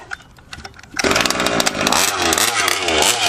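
A gas-powered RC car engine is pull-started, with a few short rattling tugs of the starter followed by the small engine catching and running in a loud, buzzing, chainsaw-like rev that carries on close by.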